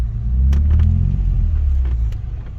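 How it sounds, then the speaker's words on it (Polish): A 1999 Ford Explorer engine revs loud and close as the gas is pressed in reverse, with a 5R55E transmission fault keeping the vehicle from speeding up; a deep rumble swells and then eases, with no talking. "Tutaj gazy, już mi nie przyspiesza."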